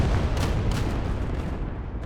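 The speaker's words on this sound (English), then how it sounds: "For some reason, it just fired its main cannon over at the Swedish house, at the Finnish house, and it's just obliterated everything around here all of a sudden" Tank main cannon firing in a World War II video game: a heavy booming blast with a dense rumbling tail that fades over two seconds, loud and close.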